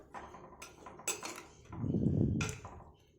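Stirring drumstick aviyal with yogurt in a pan: a few light clinks of a spoon against the pan, then a softer, fuller scraping swirl of the thick mixture near the mic, with no voices.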